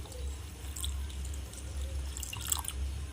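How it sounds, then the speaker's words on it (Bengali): Water dribbling and splashing into a mixer jar holding a bowl of semolina, a soft, close trickle with drip-like spatters and a low hum underneath. "এক বাটি সুজিতে আমি এক বাটি জল দিয়ে দেব"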